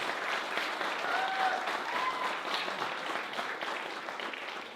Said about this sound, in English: Let's give the awardees and honorees a round of applause.